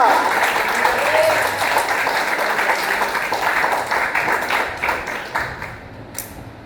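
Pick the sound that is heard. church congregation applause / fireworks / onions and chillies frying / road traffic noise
church congregation applause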